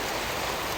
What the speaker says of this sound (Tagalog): At biglang lumakas yung ulan,